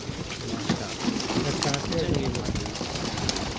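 Pigeons coo outdoors around a loft, their low murmuring calls steady and moderately close, with a voice and other faint activity in the background.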